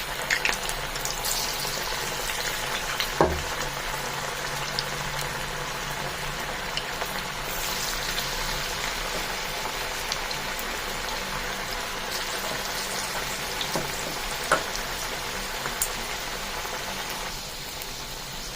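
Bottle gourd peel pakoras frying in hot oil, a steady broadband crackle and fizz of bubbling oil throughout, with a few sharper pops and clinks standing out.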